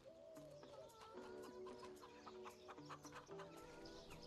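Chickens in the video game Farming Simulator 25 cluck steadily and close by, with overlapping bursts and short calls from several birds and no talking.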